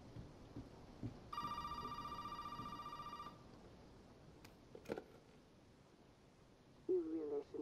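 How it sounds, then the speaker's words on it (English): Telephone ringing in the horror game Resident Evil 7, a bright electronic bell trilling steadily for about two seconds over a quiet, dim room tone, followed later by a short voice. "A phone rings."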